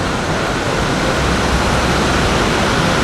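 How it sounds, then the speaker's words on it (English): Roaring waterfall at the Grand Canyon of Yellowstone, a massive volume of water pouring over the edge as a loud, continuous broadband rush with no voices. "much water is rushing over the edge"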